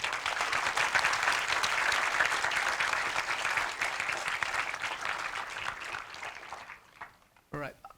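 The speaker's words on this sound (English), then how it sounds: "join me in giving a warm round of applause to our esteemed" Steady applause from a conference audience for a climate and geopolitics panel, continuous and dense for about seven seconds before tapering off, with a voice speaking briefly at the end.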